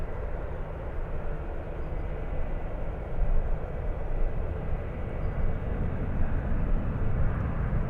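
A Hawaiian Airlines airliner touching down at San Francisco airport gives a continuous, fairly loud broadband roar with a low rumble that swells slightly midway and holds steady, with no voices.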